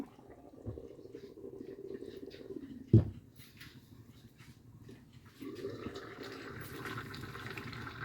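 Jaffna-style crab curry boils in a covered pot, a steady low bubbling hiss broken by one sharp knock midway, with the bubbling growing louder near the end.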